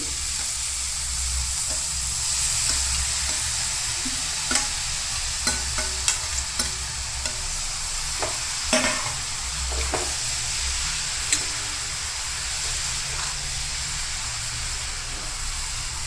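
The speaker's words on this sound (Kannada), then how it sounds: "ಈ ಕಾದಿರೋ ತುಪ್ಪಗೆ ಏನು ಸೋರೆಕಾಯಿ ನಾವು ಗ್ರೇಟ್ ಮಾಡಿ ಇಟ್ಟಿದ್ದೀವೋ ಅದನ್ನ ಹಾಕೋಣ" Grated bottle gourd fries in hot ghee with a steady, continuous sizzle, broken by occasional sharp clicks and scrapes of stirring against the pan; no voices.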